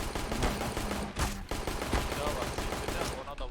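Gunfire in a competitive CS:GO match, dense bursts of rapid shots and automatic fire cracking throughout, loud and close, with a player talking over it.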